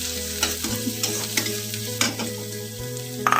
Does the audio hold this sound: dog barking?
no